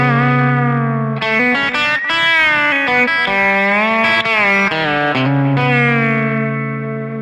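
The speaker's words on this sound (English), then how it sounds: "you can bend behind the nut on this guitar" A Kiesel Johnny Hiland JH6 electric guitar with its string bent behind the nut, giving sustained, warbling, pitch-bending notes through an effects-heavy, slightly distorted tone, played alone at close range for about seven seconds.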